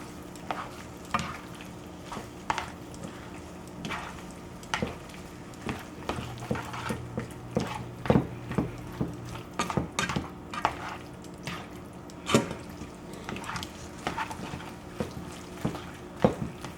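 Zucchini and mushrooms stirred in a hot pan, with a soft continuous sizzle and repeated scraping and knocking of a utensil against the pan, close and unhurried, with no voices.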